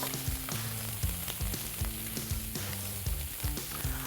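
Steaks fry in a hot pan just after being turned over, giving a steady broadband sizzle with a rhythmic low thumping beat under it, fairly loud and with no voices.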